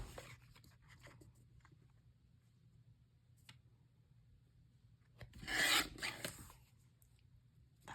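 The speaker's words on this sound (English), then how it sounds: "I think I can use my small trimmer for this" A small paper trimmer cuts a thin black cardstock mat with one brief, close rasping slide near the end, after quiet faint handling noises.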